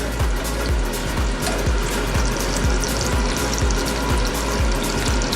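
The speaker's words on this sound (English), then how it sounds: "it's sizzling away nice and good here" Continuous frying sizzle of chicken Kiev in a pan, with a bubbling, crackling texture and regular low pops, steady and close throughout.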